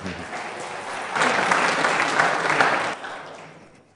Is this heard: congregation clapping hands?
yes